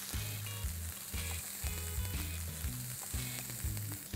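Finely chopped carrots and French beans stir-fry over a fairly high flame, a loud continuous sizzle with repeated scraping and tossing strokes in an uneven rhythm, no voices.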